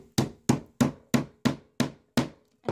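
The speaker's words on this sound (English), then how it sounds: "hammer it in until it can hold the screen down" A nail is hammered in to pin down a phone screen. Seven sharp, evenly spaced hammer strikes ring out at roughly three per second, each decaying quickly, close and clear with no talking.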